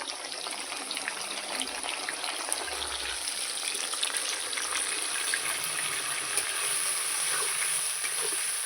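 A fish head frying as a ground paste of ginger, garlic, onion and cumin and a splash of water go in, giving a dense, steady sizzle and bubbling hiss up close, without speech.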